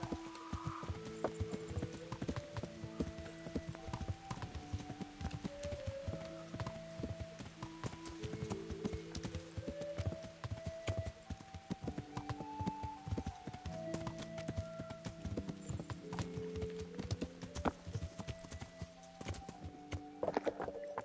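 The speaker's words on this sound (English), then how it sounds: "Let me just get my horse. I'll get there faster." Steady clip-clop of horse hooves at a canter in the game Kingdom Come: Deliverance, continuous and fairly close, with a brief whinny near the start and music-like tones underneath.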